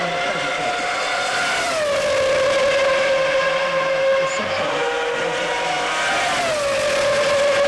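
V10 engines of 1997 Formula 1 cars at the Australian Grand Prix scream loud and close. Their high, sustained wail dips and climbs in pitch as the cars shift and accelerate.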